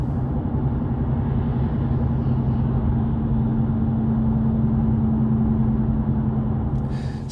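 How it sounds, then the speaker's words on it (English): Steady droning whine inside a BMW M2 from worn tires while driving, a constant low tonal hum over broad road rumble, loud and unbroken throughout the cabin. "After changing the tires, the whining noise disappeared completely."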